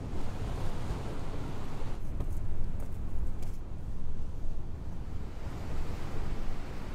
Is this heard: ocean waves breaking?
yes